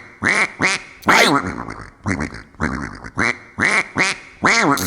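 A duck quacks in a loud, close series of about nine sharp nasal calls, some doubled, separated by short pauses, played as an animal sound for a children's guessing game.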